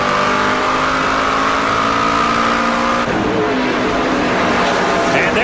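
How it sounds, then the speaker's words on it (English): NASCAR truck series race trucks, a Ford Fusion-bodied truck and a Dodge, roar at full throttle on an oval at the Napa Auto Pro 100, loud and continuous with a pass of engine pitch, under race commentary. "Kennington puts the power down to try and get around that Walmart Tide Ford Fusion"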